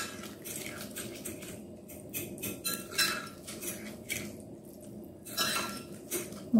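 A spoon clinks and scrapes against a bowl while semolina grains for tabbouleh are mixed and fluffed, a series of irregular close taps and rustles, no talking.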